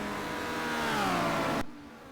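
Vauxhall touring car engine racing flat out on the Nordschleife in a 1990 WTCC race, a loud harmonic roar whose pitch sweeps down as it passes, then cuts sharply to a quieter tail.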